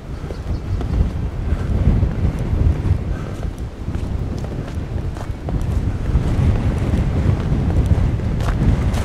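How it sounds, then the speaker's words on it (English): Strong gusty wind blasting across an open rural road on a trail, a loud, continuous roar of buffeting against the microphone with surging gusts throughout. "That wind's blasting now."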